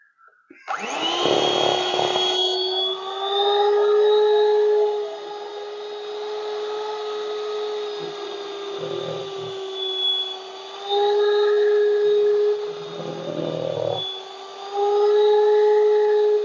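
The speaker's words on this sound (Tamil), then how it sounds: "இப்போ வந்து கொஞ்சம் கொஞ்சமாக முட்டையை ஊற்றி பீட் பண்ணுவோம்" An electric hand mixer beats eggs into sugar for cake batter with a steady whirring drone. The motor pitch shifts as the beaters move through the mix, and the sound swells and dips with brief pauses.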